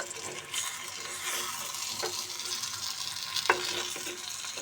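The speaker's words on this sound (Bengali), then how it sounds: "টমেটো আবার একটু নেড়ে চেড়ে দেবো" Tomato frying in a pan is stirred, producing a low, even sizzle broken by a few distinct spatula scrapes and clinks against the pan.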